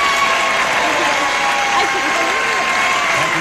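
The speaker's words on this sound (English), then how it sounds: "I know our audience joins me in applauding you" Game show studio audience applause on Joker's Wild, a thick, even wash of clapping with some cheering that stays loud and unbroken throughout.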